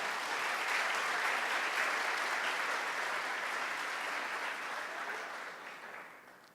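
A church congregation applauds steadily for several seconds, a dense even clatter of many hands that holds level and then tapers off toward the end, with no voices standing out.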